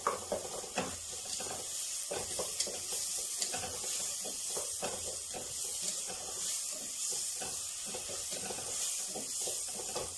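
Onion and garlic sizzling in a frying pan, a steady close crackle and hiss with small bursts of spattering throughout, no voices.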